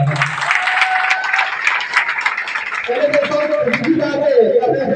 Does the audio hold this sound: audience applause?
yes